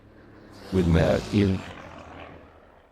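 An airplane flyby layered with an added animal sound, heard as two loud growling, roar-like bursts in the middle over a quieter whooshing engine bed that trails off afterward.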